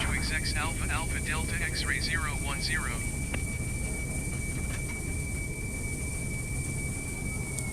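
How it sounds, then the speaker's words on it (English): MD-11 thrust reversers engaging after landing in Microsoft Flight Simulator 2020, a loud continuous low rumble of engine noise with a steady whine, while people talk over it in the first few seconds. "reversers are now working"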